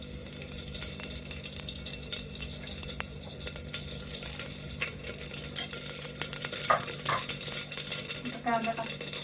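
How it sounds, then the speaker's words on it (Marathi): Cumin and mustard seeds drop into a hot pan, giving a steady low sizzle and faint crackle close by, with small clinks of utensils and someone speaking over it. "जिरे मोहरी टाकते."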